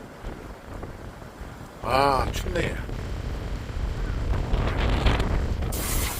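Strong gale-warning wind roars along the Igidae seaside cliffs in Busan, where waves are breaking hard. A steady broadband buffeting rumble runs throughout, and someone speaks briefly over it.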